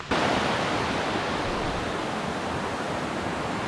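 A waterfall on a creek along a trail in Shenandoah National Park makes a steady, dense rush of falling water. The sound is loud and close and continues without a break, with no voices.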